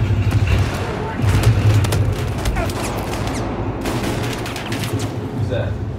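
Video-game gunfire in Battlefield 4 rattles in dense bursts and booming shots, loud and continuous, with players talking over the combat.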